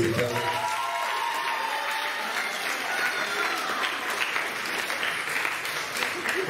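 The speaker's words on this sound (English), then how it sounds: "Give a round of applause, ladies and gentlemen." Audience applauds at a hypnotist comedy show, a steady, dense wash of clapping from a crowd that holds at full strength for several seconds, loud and close to the room.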